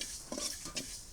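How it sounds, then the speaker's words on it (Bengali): Panch phoron, the Bengali five-spice mix, frying in a pan in a village kitchen, with a soft steady sizzle and a few quick scraping stirs of a utensil against the pan, close and brief. "এবার পাঁচফোড়ন গুলো টাইলে নেবো।"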